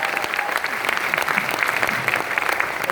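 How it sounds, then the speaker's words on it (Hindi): A seminar audience claps loudly and continuously, a dense, even roar of hands close by with a few sharper individual claps standing out. "हम लोग कर सकते हैं जोरदार ताली"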